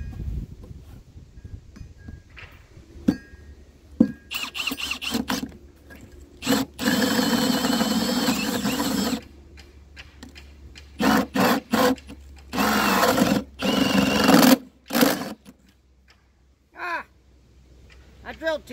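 A power tool fitted with a Spyder hole-cutting bit bores holes in loud, close bursts of whining and grinding that start and stop, separated by quiet pauses, with a few knocks and short voices in the gaps.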